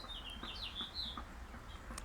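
Bird chirping while begging for food, a run of high, quick chirps and tweets close by, fairly faint but distinct, repeating in short bursts over a quiet background.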